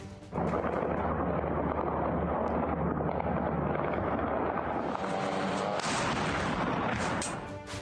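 Continuous roar of Ukrainian heavy artillery fire with dense, overlapping booms and rumbling, loud and sustained throughout, with a sharper burst near the end.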